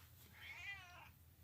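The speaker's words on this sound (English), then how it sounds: "stop it. That's my cat," A pet cat lets out one soft, wavering meow nearby, fairly faint against a low background hum.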